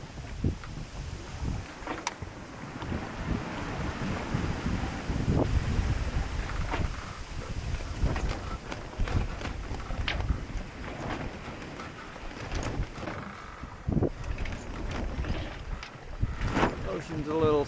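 Steady wind roars across a sailboat at sea on a rough, sloppy ocean off the Pacific coast of Mexico, a broad rushing wash with gusty peaks and bursts of microphone buffeting throughout.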